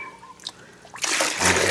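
Water splashes and pours loudly after a few faint scooping noises, a short burst of sloshing liquid close up.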